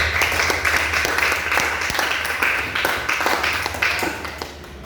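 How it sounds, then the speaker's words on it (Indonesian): Classroom applause from students after a group presentation in an eighth-grade Quran and Hadith lesson: steady, dense clapping filling the room for about five seconds, tapering slightly toward the end. "Ya, tepuk tangan dulu."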